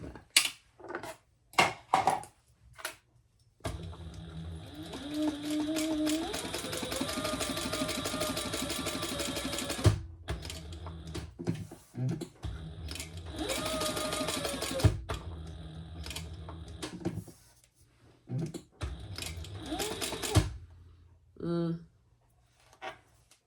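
A sewing machine stitches around the outside of a hobo-style shoulder bag in several long runs separated by pauses, with handling clicks and rustles between bursts, all close and clear.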